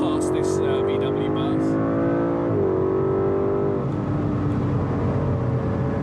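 An Aston Martin DB11 AMR in Sport Plus mode on the Nürburgring gives a steady, loud engine drone with a burbling gurgle that holds for the whole stretch. Its pitch dips midway, and a voice talks over it throughout.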